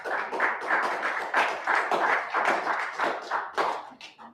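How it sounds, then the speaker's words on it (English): An audience claps steadily at a digital economy conference, a dense run of many hands with a faintly pulsing rhythm and no voices over it. "Let's clap hands for them."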